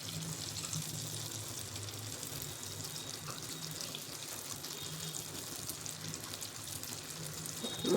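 Anarse, sweets made from rice and jaggery, deep-fry in oil with a steady, even bubbling hiss that runs unbroken throughout, fairly quiet and without talk.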